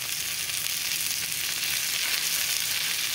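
Potatoes fry in butter in a pan that is shaken now and then, giving a steady, close, dense sizzle that stays even from start to finish with no talking.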